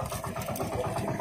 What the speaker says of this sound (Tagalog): Ganda ng tulog ng makina niya, no?